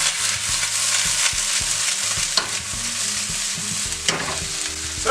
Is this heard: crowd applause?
no